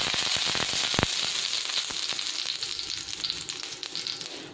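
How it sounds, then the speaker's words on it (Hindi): Desi ghee sizzles steadily on a hot tawa, a dense crackling hiss with scattered sharp pops, close and fairly loud throughout without any talk. "यहाँ पे मैंने एक तवा लिया है और इस पर देसी घी डालेंगे।"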